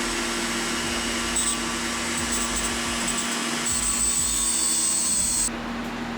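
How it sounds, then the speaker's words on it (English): A spinning grinding stone whines steadily as a metal tip is turned against it for sharpening, a continuous loud high-pitched grind that cuts off near the end. "this is the grinding stone in there, and then we're going to go and sharpen it like this and turn it while it's grinding."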